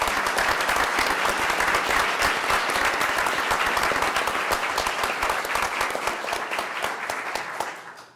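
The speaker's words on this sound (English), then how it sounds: "let's give him a round of applause" Loud, close applause fills a Board of Education meeting room as the new director of schools is welcomed, individual claps crisp within a dense, sustained round that fades out at the very end.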